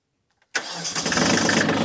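A snowblower driven by a rear PTO starts up after a brief silence, with a sudden onset settling into a steady, close mechanical engine drone.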